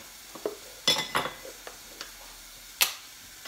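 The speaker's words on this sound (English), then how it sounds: "mushroom cooking down lovely" Mushrooms cooking down in a pan for a mushroom and Parmesan pasta, with a soft, quiet sizzle broken by occasional utensil clinks and stirring scrapes at irregular moments. No one speaks.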